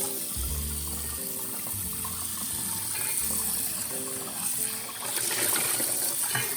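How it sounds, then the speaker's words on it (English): Hot water running from a tap while a pan is scrubbed with a Scrub Daddy sponge, a steady close gush with some low knocking and scraping against the pan. "A little bit of hot water, Scrub Daddy."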